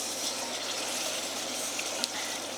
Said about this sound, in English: and then we'll add some of the water.